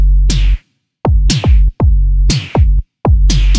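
Punchy kick drums from a Korg MS-20 analog synthesizer thump under snappy snare hits in a steady electronic beat, loud and dry with brief gaps between phrases.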